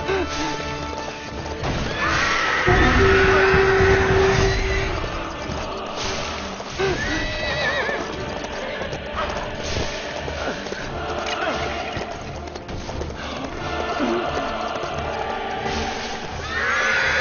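A horse in the LEGO Lord of the Rings video game whinnies during a chase, mixed with hoofbeats, crashes and clattering game effects in a busy, loud scene.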